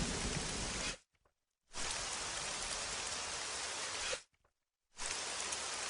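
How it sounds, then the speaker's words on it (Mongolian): Steady rain patters and hisses on surfaces, broken by two short silent gaps before the downpour resumes at the same even level. "Бороо орж байна"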